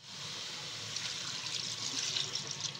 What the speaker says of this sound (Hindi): अब हम इसमें 3 गिलास पानी डालेंगे